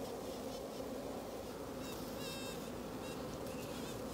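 Honey bees hum steadily in a hive with a virgin queen present, while faint rising-and-falling tones of queen piping come and go over the constant drone, no voices.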